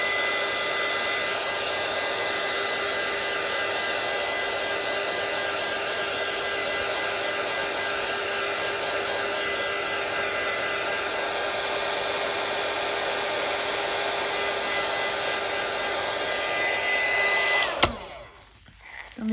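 A hair dryer blows steadily and close up while drying alcohol ink, a constant whooshing hum that cuts off abruptly near the end.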